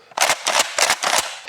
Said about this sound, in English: First shots down range with the M&P12, the Smith & Wesson bullpup here.